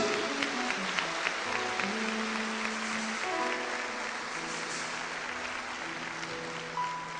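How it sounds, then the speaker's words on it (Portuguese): Sustained clapping from a congregation for Jesus at a church seminar, a steady wash of applause mixed with sustained musical tones underneath. "Dê uma salva de palmas para Jesus."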